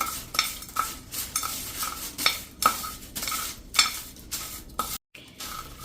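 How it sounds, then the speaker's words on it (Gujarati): Popcorn being stirred with ghee, pepper powder and turmeric gives repeated rhythmic scraping and clinking of a spoon against a metal vessel, close and fairly soft, with a brief pause near the end. "અને હવે આપણે આને મિક્સ કરી લેશું આ રીતે."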